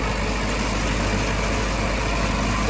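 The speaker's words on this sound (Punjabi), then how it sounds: "ਬਿਲਕੁਲ ਭਰ ਕੇ ਦੇਖੋ ਰੂਟਾਵੇਟਰ ਚੱਲ ਰਿਹਾ ਹੁਣ" A tractor runs a Shaktiman rotavator through soil without strain, its engine giving a steady, loud, low mechanical drone with a rough churning texture, close by and uninterrupted.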